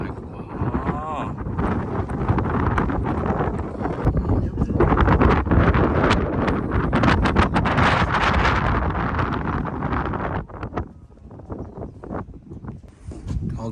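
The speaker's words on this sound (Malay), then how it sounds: "Angin pun sejuk." Cold wind buffets the microphone at Wakasa Bay, loud roaring gusts for most of the stretch that ease off near the end.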